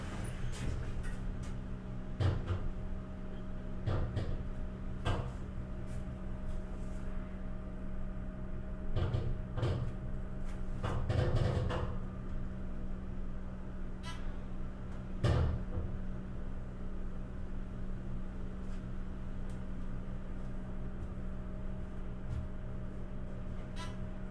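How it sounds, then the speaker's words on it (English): A 1980s Dover glass elevator in Denver, during a rainstorm, gives scattered clunks and knocks as its door shuts, then a steady low mechanical hum as the car slowly rides down. Faint, with occasional louder thumps. "And I like that my door close button works."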